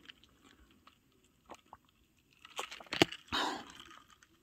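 Someone bites and chews fried potatoes and fried cheese sticks, and the crunches are close and grow louder toward the end. Soft earlier bites are spaced apart, with a quiet room behind them.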